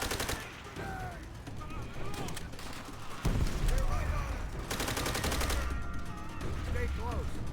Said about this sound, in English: I don't even know where that shooting's.